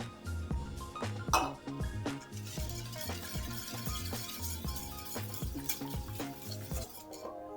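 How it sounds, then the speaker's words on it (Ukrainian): A whisk or spoon stirring crème brûlée custard of milk and cream in a bowl, giving a rapid, even run of clinking, scraping strokes against the bowl that carries on close and clear for the whole stretch. "Розмішую."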